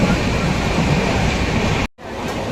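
A train rumbles close and loud in a continuous rolling roar, then cuts out abruptly near the end before a quieter return of background noise.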